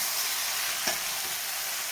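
Ghee sizzling in a frying pan in a home kitchen, a steady broadband hiss that holds evenly throughout, with one brief louder spit near the middle and no talking.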